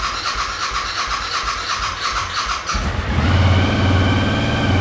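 Suzuki V-Strom 1000 motorcycle on its center stand, a whirring, clattering starter for about three seconds, then the engine catches and settles into a loud, steady idle.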